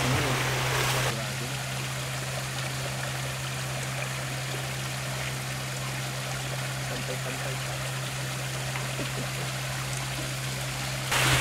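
Fast-flowing water rushes steadily through a tilapia fish tank stocked intensively with four-month-old fish, a continuous close hiss with slightly louder bursts at the very start and end.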